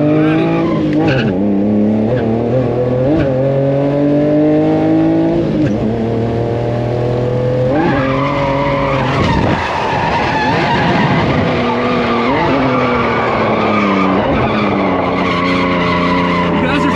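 Loud engine revving with long squealing tire skids as a BMW E46 sedan and E30 drift on a track, the pitch rising and falling through continuous screeching, close and sustained.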